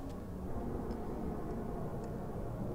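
The Spin Wheel Mark 3 rocket launches in Kerbal Space Program with a loud, steady, low roar of thrust that holds without a break, with no talking over it.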